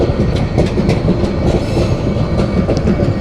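A non-AC passenger train leaving Cox's Bazar for Dhaka Kamalapur gives a steady, loud rumble of rolling wagons with faint clickety-clack and light rattles throughout, close by.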